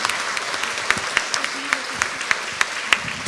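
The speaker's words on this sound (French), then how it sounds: "On vous applaudit." An audience at a health conference in France applauds a professor after a talk on immunity and Covid, with a crisp, steady patter of many hands and a few sharper claps standing out; a voice speaks briefly over it.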